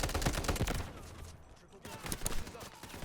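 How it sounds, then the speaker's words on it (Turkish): Rapid bursts of gunfire in the video game Delta Force crackle loudly in quick volleys, pausing briefly before resuming, with a player's voice talking over parts of it. "Biri atış ediyor."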